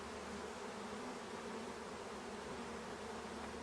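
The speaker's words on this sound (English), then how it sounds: "The rest of the bees will crawl in to the hive." A dense, steady buzzing of many honeybees crawling into a hive during package installation, a continuous low hum with no talking, fairly faint but filling the whole clip.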